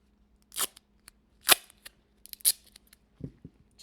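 A small piece of duct tape is snipped with scissors in a few sharp, close cuts spaced about a second apart, followed by soft handling rustles of the tape.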